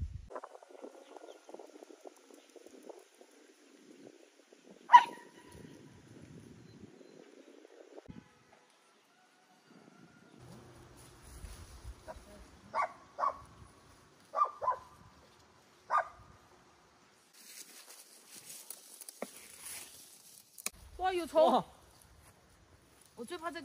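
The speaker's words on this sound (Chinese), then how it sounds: "因为这里又发现了一只狗狗" A dog barks in a few sharp, scattered bursts at a moderate distance in a rural field, mixed with other outdoor noises and some talking.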